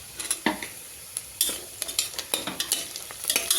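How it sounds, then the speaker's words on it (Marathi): Onions and green chillies sautéing in a pan for a mutton pulao, a bright constant sizzle under frequent quick spoon scrapes and taps in an uneven rhythm; no voices. "अजून थोडा लालसर होईपर्यंत असं परतून राहायचं"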